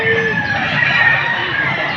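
A gamecock rooster crows at a poultry market in Padre Garcia, Batangas, with one drawn-out call heard through the steady crowd noise and chatter around it.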